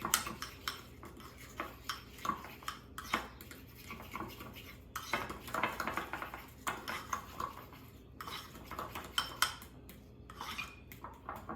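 Ingredients with Worcestershire being mixed in a bowl for steak, a utensil clinking and scraping repeatedly against the bowl in a busy, close, irregular rhythm.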